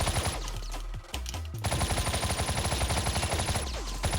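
Gunfire from the video game Dead Gaem: rapid automatic bursts with a brief gap near the start, then sustained fast rattling shots, loud and close with no talking over them.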